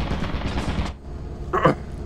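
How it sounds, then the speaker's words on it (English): Rapid burst of automatic gunfire in the video game Lethal Company, a short loud rattle of shots standing out against steady game background noise, with no talk over it. "Machine gun!"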